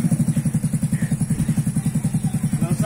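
A Yamaha Mio scooter engine revs in a steady pulsing rhythm, loud and close with a rough clattering tone, apparently on a dirty, muddy track.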